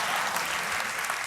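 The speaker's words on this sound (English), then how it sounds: "That's a cheap clap." A theater audience breaks into brief, moderately loud applause, a dense burst of clapping hands filling the short moment alone without speech.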